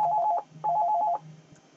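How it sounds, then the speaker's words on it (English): A Panasonic analog telephone on a KSU phone system rings with an incoming call from another analog phone, giving two short, clear bursts of warbling electronic trill close by, with no talking. "I'm going to call it from another analog phone."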